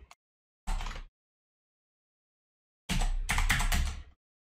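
Bursts of typing on a computer keyboard while entering a Linux export PATH command: a brief patter of keys, a pause, then a longer quick run of clicks near the end, close and dry.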